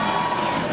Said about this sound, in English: the crowd here behind me certainly celebrating here tonight